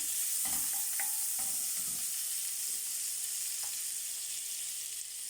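About two tablespoons of butter melt in a pan as the base for béchamel sauce, giving a steady bright sizzle with a few soft utensil taps early on, heard close and without speech.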